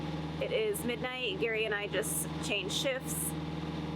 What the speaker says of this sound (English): All right, so that is the sound of our engine.